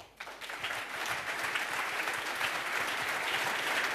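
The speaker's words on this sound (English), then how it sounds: "please welcome Rara with a big round of applause." Applause from an audience at an Amiga 500 hardware and programming talk swells up quickly and keeps going, a dense, even wash of many hands clapping at a distance.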